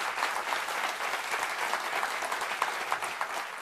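An audience at an Apple iPad and iMac presentation claps steadily, a dense, even round of applause that continues without a break.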